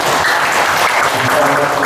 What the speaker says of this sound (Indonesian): Tepuk tangan buat Bu Camat.